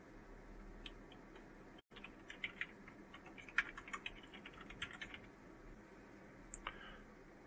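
Quiet clicks of typing on a computer keyboard as a username and password are entered: irregular, light keystrokes close by, heard alone with no talking.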